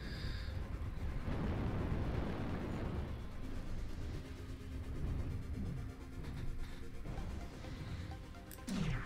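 In the MechWarrior Online video game, a target is destroyed in a heavy explosion: a sustained, rumbling roar of blasts and crashing debris that lingers for several seconds, loud and dense, with a sharp burst near the end.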